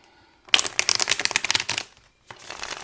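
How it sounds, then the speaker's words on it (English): Tarot cards are shuffled up close in a quick riffling burst, a pause, then another shorter shuffle begins. "so let's shuffle."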